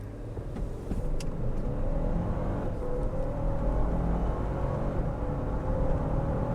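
A Lexus LX 600 F Sport SUV with a twin-turbo V6 and 10-speed automatic, accelerating in Sport Plus mode, heard from inside as a steady low engine drone with a rising tone, no talking.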